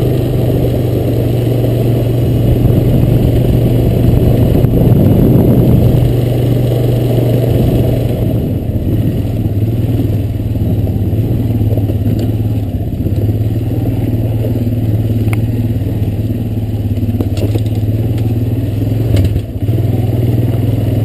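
A Honda Recon ES ATV engine drones steadily and loudly while riding a trail, holding a constant mid-pitched hum with rough clatter and slight swells in throttle throughout.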